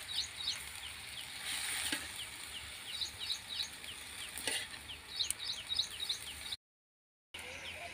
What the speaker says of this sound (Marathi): आता या सगळ्या भाज्या मी परतवून घेते।